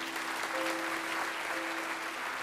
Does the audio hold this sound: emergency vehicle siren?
no